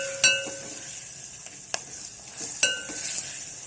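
Drumstick pieces and green chilies sizzle in a pan, a steady frying hiss broken by a few sharp clinks and scrapes from stirring, close and moderately loud.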